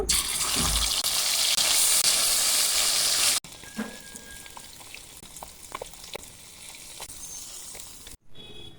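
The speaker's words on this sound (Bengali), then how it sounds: "মাছগুলোকে দ্বিতীয় ব্যাচটাও ভেজে নেব" Rohu fish pieces frying in hot oil, first a loud, hissing sizzle, then a sudden drop to a quieter bubbling fry with a few scattered clinks and taps.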